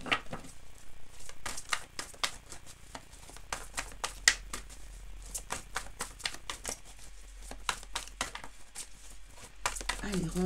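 Tree of Life oracle cards being shuffled: a quiet, irregular run of soft snaps, riffles and crisp clicks, close by, with a voice speaking at times.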